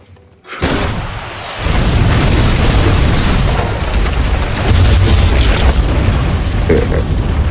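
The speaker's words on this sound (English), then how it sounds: "The big explosion at Connie's shakes all of Harlem." A huge, deep explosion erupts after a brief quiet moment, followed by a sustained roaring rumble of debris and destruction that fills the air.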